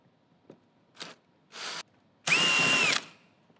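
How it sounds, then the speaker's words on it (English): A power drill with a 6mm Allen bit whirs in short bursts removing bolts from a floorcare.biz x15B vacuum motor, starting with brief blips and ending in a longer, louder run, close and clear. "I went ahead and switched my drill out to a 6mm Allen head drill bit"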